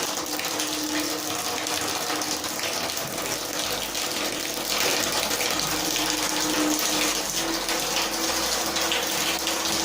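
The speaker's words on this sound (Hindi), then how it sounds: "पानी गिर रहा है, पानी स्लो है ज़रा उस वक्त" Water pouring steadily from an electric instant shower heater, a dense, continuous splashing hiss that stays loud and even throughout with no voices.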